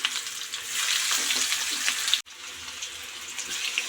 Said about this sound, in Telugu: డీప్ ఫ్రైకి సరిపడా ఆయిల్ కడాయిలో వేసుకోవాలి. నూనె అయితే వేడయింది. నేనైతే పీసెస్ వేస్తున్నాను.